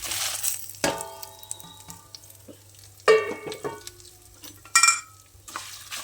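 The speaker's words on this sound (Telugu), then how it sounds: "ఎండుమిరపకాయలు వేయించేటప్పుడు ఎప్పుడు కొద్దిగా ఒక స్పూన్ ఆయిల్ వేసి వేయించుకోవాలండి" Ginger, cumin and dried red chillies fry in a little oil, a steady sizzle broken by louder bursts of stirring and scraping around 1, 3 and 5 seconds, with no talk.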